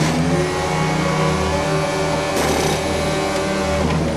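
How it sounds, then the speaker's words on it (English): A Mercedes Formula 1 car running on a circuit, a loud, sustained high-pitched engine whine holding steady with slight pitch shifts as it drives past, close and continuous. "Here comes the Mercedes of Lewis Hamilton."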